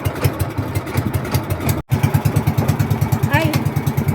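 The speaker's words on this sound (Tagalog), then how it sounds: "Maingay ang motor." A noisy boat motor chugs in a rapid, steady rhythm close by during island hopping, loud throughout with a brief dropout, while a voice talks over it.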